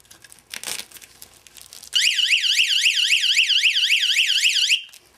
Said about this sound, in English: an alarm and a light off of one of my ice fishing tip-ups